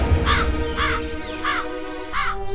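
A crow caws four times in a steady, evenly spaced series, loud and close, over a low background hum.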